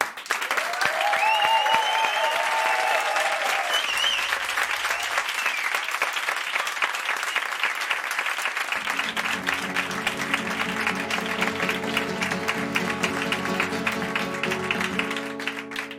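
A studio audience claps for a performer after a karaoke segment of a TV show, with steady, dense, loud applause throughout, and music swelling in partway through.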